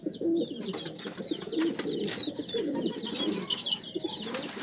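A breeder racing pigeon coos repeatedly up close, with low rolling coos over a steady background and some faint higher chirps from other birds nearby.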